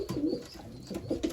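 Young racing pigeons coo close by in a loft, a few soft, low throaty coos rising and falling over a quiet background.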